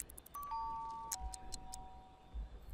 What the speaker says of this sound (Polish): O, ktoś dzwoni.